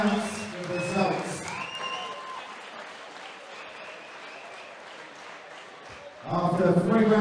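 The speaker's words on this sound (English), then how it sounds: "Let's give both of these boxers a massive round of applause" An audience applauds steadily for two boxers after a three-round bout, the clapping swelling in the middle while an announcer's voice speaks before and after it.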